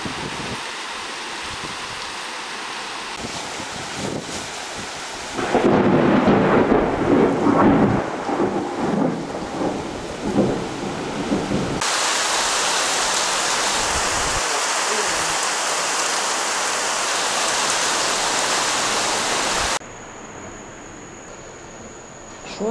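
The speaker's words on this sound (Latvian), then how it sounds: "Pēkšņi klāt riktīgas lietus gāzes." Sudden tropical downpour in Cuba: heavy rain pours down in steady, roaring waves with low rumbling thunder, loud and close, filling the whole stretch without any talk.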